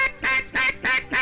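Ducks quacking in flooded Arkansas timber during a hunt, four loud rhythmic quack bursts close by with brief gaps between them.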